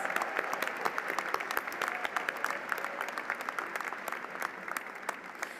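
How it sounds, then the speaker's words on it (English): Steady crowd applause at a university commencement for MBA graduates in pharmaceutical and healthcare business, moderately distant, with many individual claps crackling through a continuous wash that holds its level throughout. "huge round of applause to congratulate the Master of Business Administration in Pharmaceutical and Healthcare Business graduates"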